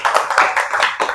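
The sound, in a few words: applause for the class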